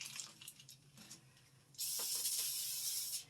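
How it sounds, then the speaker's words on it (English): Cooking spray hisses onto parchment paper in one steady, close burst lasting just over a second, following quieter faint rustling. "I'm going to spray it a little bit."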